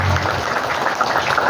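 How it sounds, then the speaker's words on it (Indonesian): A gathering at a temple dharma talk gives a round of applause, a continuous, even wash of many hands clapping with no voice over it. "Tepuk tangan semuanya."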